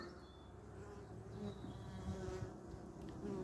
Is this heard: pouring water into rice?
no